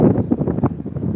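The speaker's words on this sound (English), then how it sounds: "so the wind is picking up a little bit" Gusty winter storm wind, reaching around 15 mph, buffets the microphone in loud, uneven rushes and thumps that swell and fade.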